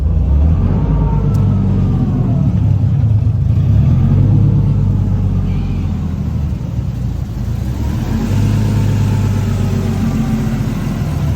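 A Toyota 1JZ engine swapped into a Nissan S14 drift car runs loud and close throughout, with a steady low rumble and repeated revs that rise and fall over a rough idle.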